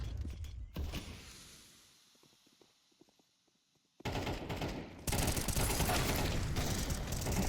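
Gunfire in Counter-Strike 2 on the Ancient map comes in rapid bursts, a loud dense spray in the last few seconds after quieter clicks and shuffling, heard alone without talk.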